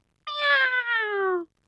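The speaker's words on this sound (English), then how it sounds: "Listen for the meow." A single drawn-out cat meow, clear and close, rising slightly and then sliding downward over about a second before stopping, alone against silence.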